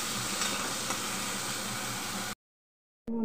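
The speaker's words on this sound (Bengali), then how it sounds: "আলু পেঁয়াজ ভেজে নিচ্ছি" Potatoes and onions frying in a pan in a home kitchen: a steady, fairly close sizzle for about two seconds, then sudden silence and a brief clatter at the end. No talking.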